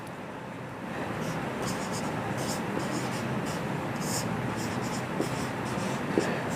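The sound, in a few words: writing out a chemistry solution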